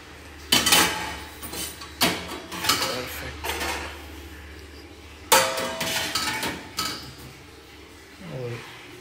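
Clean dishes come out of a Bosch dishwasher and are stacked in a rack, giving a run of sharp clinks and clatters of metal and ceramic in irregular bursts at close range, separated by quiet gaps.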